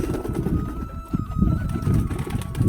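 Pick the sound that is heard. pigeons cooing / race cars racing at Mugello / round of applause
pigeons cooing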